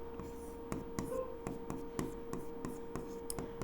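Pen or chalk strokes writing out a probability formula, a steady run of short scratchy marks and taps at a close, even pace with no talking.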